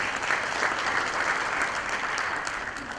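Steady, full audience applause at a formal ASEAN-India dialogue event, honoring a panel of distinguished speakers; dense, even clapping fills the moment throughout with no voices standing out.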